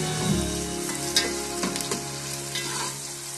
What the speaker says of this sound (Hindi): अब हम इसमें अदरक लहसुन का पेस्ट शामिल करेंगे और इसको भी थोड़ा सा भून लेंगे इसके अंदर